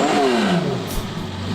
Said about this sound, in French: Écoutez bien le bruit de cette voiture.